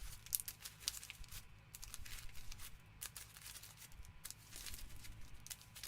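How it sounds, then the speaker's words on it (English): Shuffling a deck of Harry Potter: Hogwarts Battle board game cards, a steady stretch of papery riffling and crinkling with soft card slaps, close and moderately quiet, no talking. "We have to shuffle the deck, actually."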